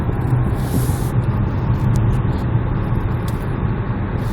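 An Opel Mokka with a 1.7 diesel engine running on a road test, heard as a steady, fairly loud low rumble blended with broadband road and cabin noise throughout, with no talking.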